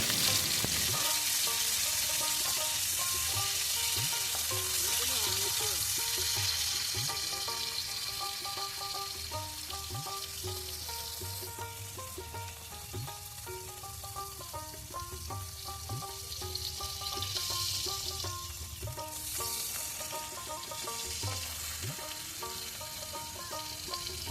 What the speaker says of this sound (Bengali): ও তেলের মাঝে সুটকি ভাজি লইলাম